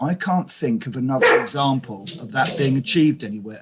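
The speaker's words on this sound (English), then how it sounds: "Apologies for my dog." A dog barks and yips in short bursts behind someone speaking steadily during a work-from-home online meeting. The barking is mixed under the talk throughout.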